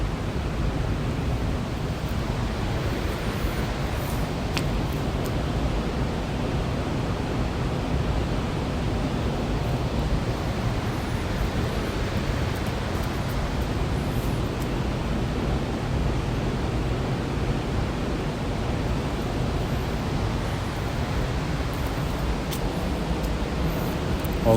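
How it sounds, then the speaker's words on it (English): A waterfall rushes steadily in the background, a continuous broadband roar of falling water that stays even and unbroken throughout, with no speech over it. "you can hear the falls behind me"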